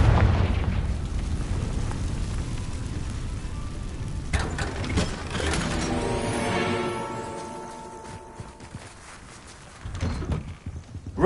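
A Confringo spell fires in Hogwarts Legacy with a deep booming blast and crackling burst, followed by swirling magical tones and a rumbling tail, then a second muffled impact near the end.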